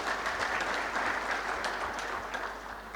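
A conference audience claps warmly and steadily, a dense, even wash of applause throughout with no break.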